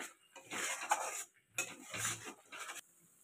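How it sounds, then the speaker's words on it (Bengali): Egg korma masala with poppy seed, melon seed and cashew paste being stirred in a pan on low gas, intermittent scraping strokes of a spoon against metal with faint sizzle between quiet pauses. "গ্যাসটা কমিয়ে দিয়ে নাড়ছি।"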